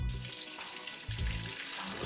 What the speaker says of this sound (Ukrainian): Добре, що тече вона тут із кожного крану.